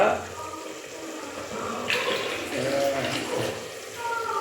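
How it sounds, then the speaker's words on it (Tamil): Water is poured into a pot of rice for tomato rice, making a splashing pour that swells midway and runs on for a few seconds, with a voice talking over it. "ஒரு டம்ளர் ரெண்டு டம்ளர் தண்ணி விடணும்"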